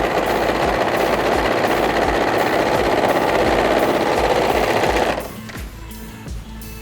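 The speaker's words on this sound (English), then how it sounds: "I like to do this as a batch, so you sew one, and then instead of cutting your thread, you just get the next piece, keep sewing" A sewing machine runs steadily, stitching pieces of dungarees one after another in a batch. The motor whirs loud and close for about five seconds, then drops to a quieter, uneven rattle as the stitching slows and stops.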